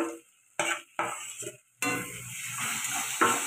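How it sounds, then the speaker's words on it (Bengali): Spices fry in oil in a pan, heard as bursts of sizzling and stirring clatter that start and stop, then settle into a steadier close hiss with occasional utensil taps. "মশলাটা খুব ভালো করে ভাজা হয়ে গেছে।"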